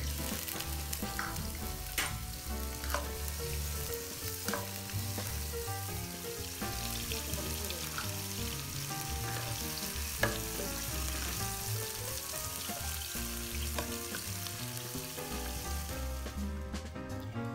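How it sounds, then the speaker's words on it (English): Ten or eleven prawns sautéing in a wok, a dense continuous sizzle and crackle of hot oil with occasional stirring scrapes, steady and close throughout, no talk. "saute 10 to 11 prawns in the same wok until it's half cooked"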